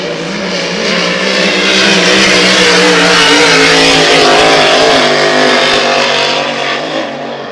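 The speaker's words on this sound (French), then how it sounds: "Plein gaz. Alors, cette fois-ci, on ouvre la machine et pour de bon." A racing hydroplane engine at full throttle during Grand Prix time trials on the water, a loud, continuous roaring drone that holds steady and swells slightly in the middle before easing.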